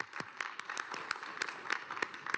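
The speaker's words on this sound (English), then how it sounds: "Warm applause" Applause in a large hall at an ASEAN plenary session after the Malaysian Prime Minister speaks, a light scattering of individual claps with distinct sharp hits rather than a dense roar.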